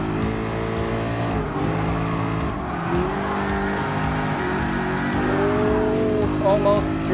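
Ford GT LM Spec II Gr.3 race car in Gran Turismo Sport with a loud, steady engine drone and tires squealing as it slides close to a drift, under continuous commentary.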